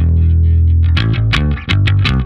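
Distorted bass guitar plays the tabbed chorus line of a song, a low held note followed by quick chugging repeated notes, loud and close with no talking.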